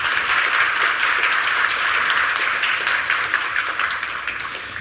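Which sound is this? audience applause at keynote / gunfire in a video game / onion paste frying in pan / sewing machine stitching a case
audience applause at keynote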